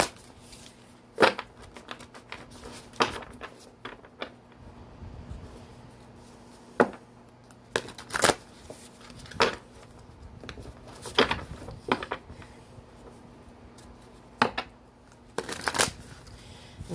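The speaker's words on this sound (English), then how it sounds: "Well, that was a crappy shuffle." Tarot cards are shuffled in short bursts of sharp riffling and tapping, spaced irregularly with quiet pauses between, close up and without talk.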